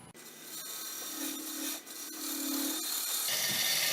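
A bowl gouge roughs a wooden bowl blank cut from a log on the lathe, making a steady, close scraping rasp of cutting wood that runs almost without a break, with a brief dip partway through.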